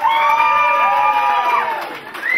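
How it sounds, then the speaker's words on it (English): Cheering and whoops rise from an audience at a community hero awards evening, loud and lively for a couple of seconds, with scattered clapping mixed in. "Big round of applause there."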